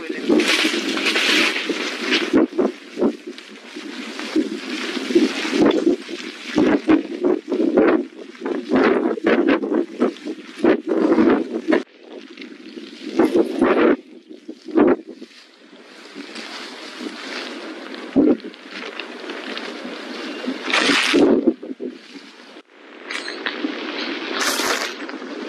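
Strong wind batters the microphone in loud, uneven gusts, roaring and buffeting with brief lulls, while a voice speaks in places.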